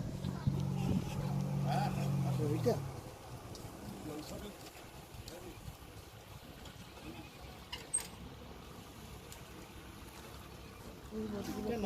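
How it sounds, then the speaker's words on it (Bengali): A boat approaches the pier at Digha for the trip to Bichitrapur island. A low engine drone is heard in the first few seconds, then it fades into quiet open-air background with faint voices nearby. "ওই আসছে আমাদের বোট"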